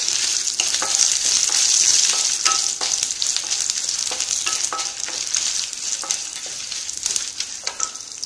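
Dried red chillies and cumin seeds frying in a pan, a loud, dense, crackling sizzle that runs throughout, broken by rapid popping ticks and stirring.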